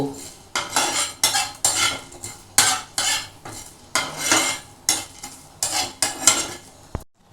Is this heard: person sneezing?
no